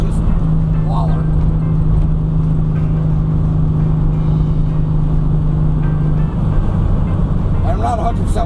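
A 1972 VW Super Beetle with a rear brake rebuild driving along, its engine droning loud and steady from inside the car and a low hum holding for several seconds before easing as it brakes.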